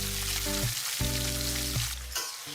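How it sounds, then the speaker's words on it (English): Indonesian mi goreng noodles stir-frying in hot oil with garlic, Maggi seasoning, sweet soy and chili sauces, a loud close sizzle with brief scraping stirs, no talk. "Stir fry everything evenly."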